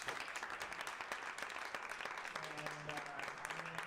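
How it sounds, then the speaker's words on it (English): Audience applause for startup founders after their pitches at a startup lab event, a dense steady wash of clapping with faint talk and some tonal sounds mixed in toward the end. "Let's give a big round of applause to everybody that pitched."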